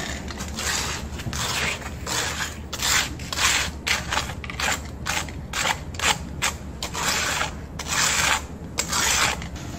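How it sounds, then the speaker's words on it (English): A straight edge scrapes across freshly mixed concrete to level it in a metal measuring barrel, making repeated gritty rasping strokes in a close, steady rhythm with no talking. "Now I'm using the straight edge, or in the same time we can use trowel as well."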